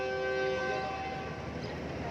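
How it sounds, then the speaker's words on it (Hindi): The 46 Down Pakistan Express passenger train pulls out of Drigh Road Junction station in Karachi, its horn giving a steady, sustained tone over the constant rumble of the train. "46 डाउन पाकिस्तान एक्सप्रेस रवाना हो रही है"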